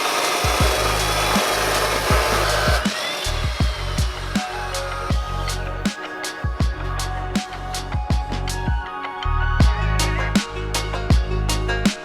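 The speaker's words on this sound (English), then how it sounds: "I cut some more steel that would sister the two axles together." Steel stock cut to join two trailer axles, a harsh power-tool cutting whine coming in repeated bursts with sharp clanks and knocks between them, loud and close.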